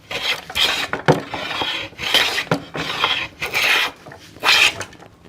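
A hand plane shaves a tapered wooden desk leg in several strong rasping strokes, each a loud close swipe with brief pauses between.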